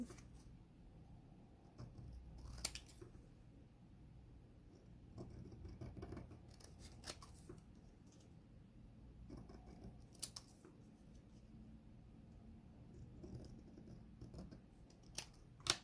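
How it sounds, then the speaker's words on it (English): Scissors snip around an inked paper stamp up close: faint, quiet cuts and small paper rustles in an irregular series, with a few sharper clicks. "I'm just going to go ahead and cut it. Try to stay within that frame of it."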